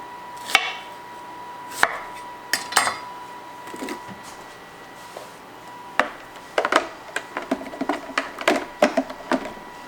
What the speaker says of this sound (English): then get to chopping up the onions